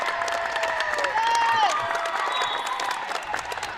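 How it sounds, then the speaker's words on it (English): Spectators at a youth volleyball qualifier match applauding both teams after the final point, moderate clapping and some cheering mixed with whistles and squeaks in a gym, with voices talking throughout. "You hear the applause here for both teams on a match well played"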